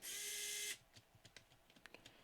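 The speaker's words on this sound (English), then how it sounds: "Now let's get these screws in." A small electric screwdriver whirs briefly and loudly up close, then stops. Soft ticking and clicking follow as screws are set into the plastic hinge cover of a Nintendo DS Lite handheld console.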